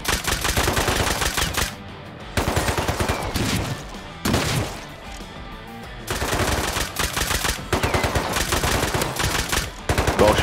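Automatic gunfire in a survival video game rattles in long, loud bursts, firing almost continuously with a few brief gaps between volleys.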